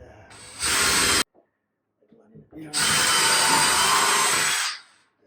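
A power drill drives screws into a drywall patch, whirring loudly in two bursts, a short one and then a longer run of about two seconds, with a brief quiet gap between them.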